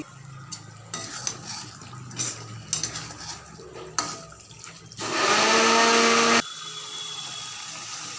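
A mixer grinder blends milk and cashew paste in a home kitchen, roaring loudly and steadily for a few seconds, with kitchen clatter from pots and utensils before it starts.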